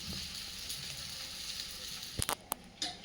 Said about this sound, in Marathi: आणि वरून थोडंसं तेल टाकून घेऊया आणि छान शिजू देऊ